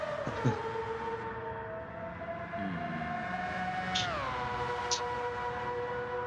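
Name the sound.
car engine in Gran Turismo 7 video game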